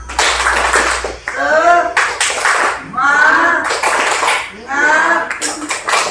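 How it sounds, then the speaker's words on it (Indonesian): A group claps their hands in rhythmic bursts as a class cheer, loud and close, with voices chanting over the clapping between the bursts. "Tepuk tangan, semangat!"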